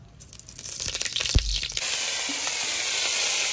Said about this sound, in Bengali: কড়াই গরম হয়ে গেছে, তেলটা দিয়ে দেবো।